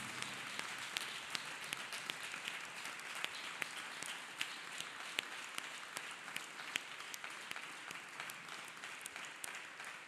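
Church congregation applauding for Jesus at a healing service, a dense, sustained patter of many hands clapping evenly throughout, moderately distant and fairly quiet.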